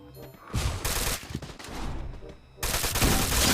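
Bursts of rapid gunfire from Free Fire, including an SKS rifle, crack loudly in two stretches with a brief lull between, close and sharp, with some talk faintly underneath.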